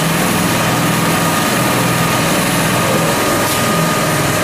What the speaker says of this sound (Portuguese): Esse processo de lixas são feitos nessas máquinas, que nós chamamos de lixadeiras e polidoras